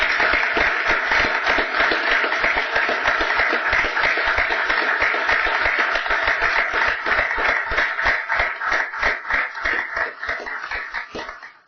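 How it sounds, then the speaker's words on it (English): A small group applauds at a county commissioners' public meeting, close, loud clapping that settles into a rhythmic, almost unison beat before trailing off at the end. "We're going to give you a round of applause first."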